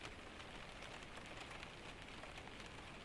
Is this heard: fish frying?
no